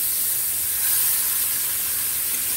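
Pork chops frying in a pan on an electric stove set to medium-high, giving a steady, even hiss of sizzling fat that holds unchanged throughout with no talking.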